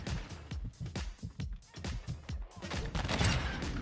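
Rapid bursts of gunfire from an online shooter video game come in a quick rhythmic string of sharp cracks, with shots taken in blind fire. The bursts are close and punchy and grow louder and more cluttered toward the end.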